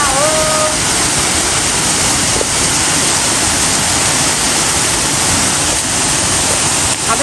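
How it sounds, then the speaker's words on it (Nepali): A village waterfall in rural Nepal roars steadily up close, a loud, unbroken rush of falling water that fills the whole stretch with no voices. "यहाँ हाम्रो गाउँको झरना तपाईँले हेर्नु होला"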